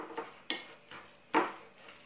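Biscuit dough made with banana, cocoa and poppy seeds is stirred in a bowl, giving a few soft, spaced scrapes and knocks of a utensil against the side, quiet and close, with no talking.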